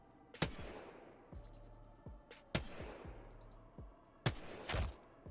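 Rifle shots from an R-301 in Apex Legends, fired at a target on a practice range: a few sharp, separate reports spaced a second or two apart, each followed by a short clatter and ring, with no talk.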